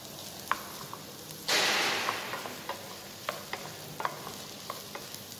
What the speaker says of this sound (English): I continuously stir with the helping of wooden spatula